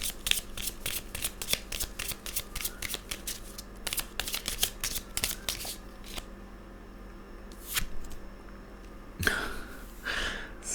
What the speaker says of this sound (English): I think that was just my crappy shuffling.